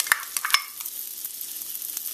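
Minced garlic and diced onion sizzle in a pan as a spoon stirs them in quick, close scraping strokes over a soft, steady frying hiss.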